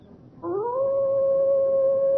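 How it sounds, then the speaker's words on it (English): A hound's long, mournful baying howl in an audio drama set on a moor, rising after a quiet start into one sustained, steady wail that holds loud and clear to the end. "the baying of a fiend dog, a hound from hell, a soul-shattering experience"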